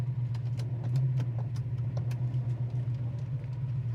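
A restored 1969 Chevy Camaro pulls through its gears, a steady low engine drone with a constant hum and scattered light clicks and rattles from inside the cabin.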